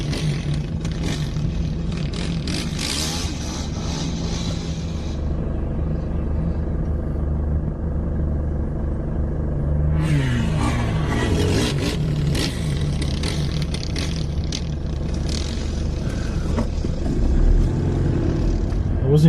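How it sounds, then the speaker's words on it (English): A quad bike engine revving in first gear on sand dunes, a loud close rumbling drone that rises and falls in pitch, with a brief drop in intensity midway before climbing again. "I was in first gear, so I was revving it reasonably"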